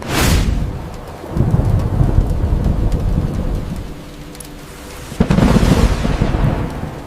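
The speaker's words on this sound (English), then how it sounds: "Rain." Rain falling steadily with rumbling thunder, part of a stormy night scene with howling wind outside a house; a loud thunder roll opens, the rain hiss continues throughout, and a second heavy rumble swells near the end, with no talking.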